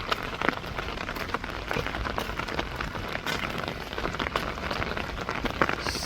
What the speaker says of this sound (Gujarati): સખત 2 કલાકથી વરસાદ ચાલુ જ છે.